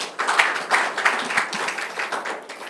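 An audience at a forum on inter-Korean science and technology exchange claps to welcome a professor to speak. The applause is moderate, with irregular claps pulsing steadily and then thinning toward the end.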